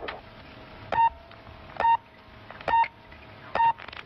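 Paris telephone speaking clock time signal: four short, clean electronic beeps at an even pace of roughly one per second, alone over a faint line hiss with no voice.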